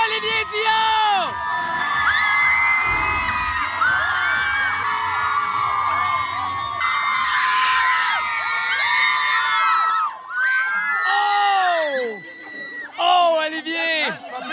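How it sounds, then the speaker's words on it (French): A studio audience at a French TV show cheers, whoops and yells loudly and continuously, with high excited voices shrieking over the crowd noise and brief dips between bursts. "Applaudissez et criez pour Olivier Dion!"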